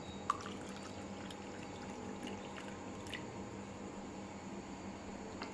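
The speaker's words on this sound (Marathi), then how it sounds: "पाणी टाकून घेणार आहोत। मी थंड पाणी घेतलेलं आहे" Cold water pours steadily into a vessel without ice for homemade lemon sherbet, a quiet, even wash of liquid hiss running through the whole stretch with a faint tick near the start.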